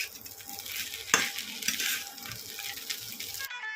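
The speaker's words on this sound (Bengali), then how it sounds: "তো ভাত ভাজা আমার অলমোস্ট কমপ্লিট" Fried rice with egg cooks in a pan, giving a steady hiss and sizzle under scraping stirs, one sharp clank, and then a sudden cutoff.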